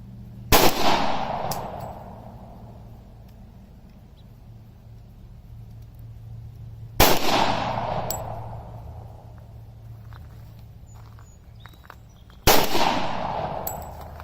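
A Rock Island Armory M1911 A1-FS pistol fired outdoors at cans, three sharp loud single gunshots spaced about six seconds apart, each followed by a ringing echo decaying over a faint background hum.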